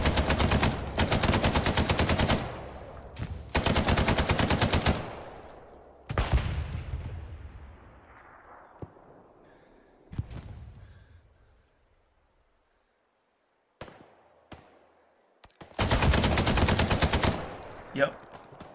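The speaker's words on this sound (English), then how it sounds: "You feel so cool posted up with an MG." Machine gun in the Hell Let Loose video game fires in loud, rapid sustained bursts, followed by fading echoes and scattered distant shots, then another long burst near the end.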